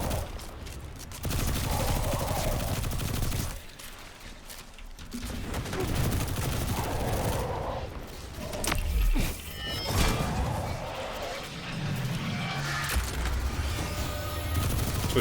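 Gunfire in Destiny 2, bursts of rapid shots and impacts over a steady low rumble, with louder blasts around the middle and brief quieter gaps between volleys.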